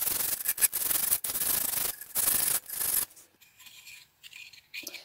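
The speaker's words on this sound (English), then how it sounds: "But I had to do a little bit more filing just to get it spot on." Hand filing on a handmade cooking spatula, a run of quick rasping strokes in uneven rhythm, close and fairly loud, then dropping to quieter scattered scrapes.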